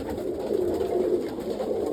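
Roller pigeons of an almond bloodline coo steadily inside a loft, a soft continuous throaty murmur from several birds close by with no talk.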